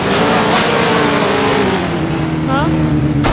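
A car in a video game driving at speed, a loud continuous engine drone with shifting pitch and a brief tire squeal, while players talk over it.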